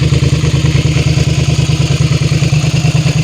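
A Suzuki SV650S motorcycle engine idles steadily close by after a wash, a loud continuous V-twin rumble with an even, rapid pulsing throb and no talking.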